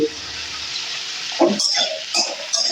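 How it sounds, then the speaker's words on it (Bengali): Potatoes fry in oil in a pan with a steady sizzle, joined by clinks and scraping of stirring near the end. "ভালো করে আমি আলুটা এখন"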